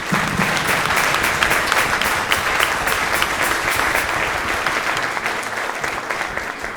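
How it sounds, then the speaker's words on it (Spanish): Loud, steady applause from a large church congregation, dense clapping filling the whole stretch without pause. "dale un fuerte aplauso al Señor"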